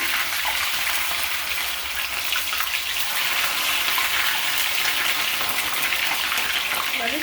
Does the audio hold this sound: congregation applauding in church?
no